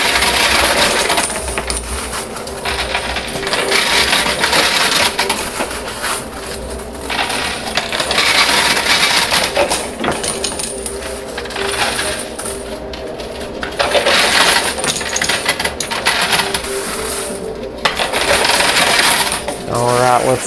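Coins clatter and cascade nonstop inside a coin pusher arcade machine, metallic jingles and drops layered with mechanical whirring, loud and close for the whole stretch.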